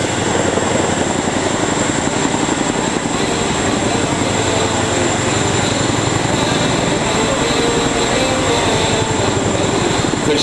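A Boeing CH-47 Chinook helicopter at an RSAF airshow at Paya Lebar Air Base, Singapore, drones loudly and continuously nearby, its rotor chop and engine whine steady throughout.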